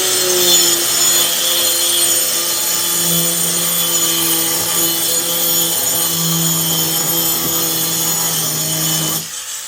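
A power tool cuts an old metal drum down to a 26-inch length for a plant pot, grinding in a loud, continuous whine with a wavering pitch until it cuts off near the end.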